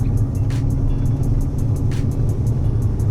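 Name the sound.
Ford Foxbody Mustang driving in third gear at 30 mph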